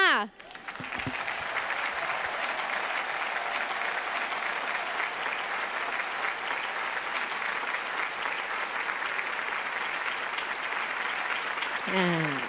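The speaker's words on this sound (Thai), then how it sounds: "ลุกขึ้นยืนรับเสียงปรบมือด้วยค่ะ" A large audience at an award ceremony breaks into sustained applause that holds steady for the whole stretch. A brief voice is heard at the very start and end.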